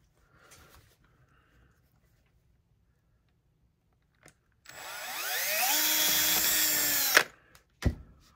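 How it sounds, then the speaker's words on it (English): A power drill whirs loudly for a couple of seconds, drilling down through a turkey taxidermy wing mount, its pitch rising as it spins up and bores in, followed by a short clunk; otherwise near-silent. "I'm gonna drill that hole"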